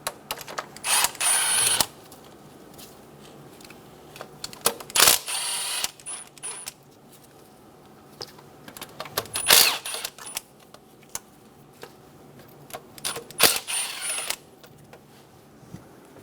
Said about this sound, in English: Using a 10mm socket, we're going to remove the 4 nuts for the valve cover.